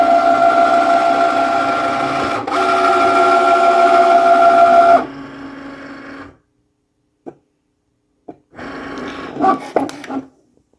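A Cricut cutting machine loads a mat of everyday iron-on material, giving a steady whirring motor hum for about five seconds, then a brief stop, a few clicks and a short burst of mechanical movement.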